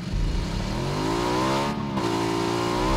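Motorbike engine in PLAYERUNKNOWN'S BATTLEGROUNDS revving loudly and steadily, pitch rising then dipping briefly before climbing again, a close continuous drone throughout.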